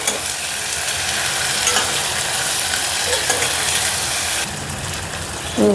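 Mint and coriander leaves frying in a pan for a meal maker pulao, a loud, steady sizzle with stirring and scraping, close up and unbroken, with no talking.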